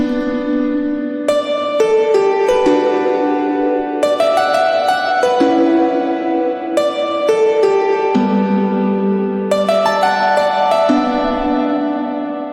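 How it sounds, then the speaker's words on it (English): A solo piano from a 175 BPM liquid drum and bass track plays a repeating chordal melody with sustained notes, loud and clear, with no voices. "The first sound here is the piano, which sounds like this."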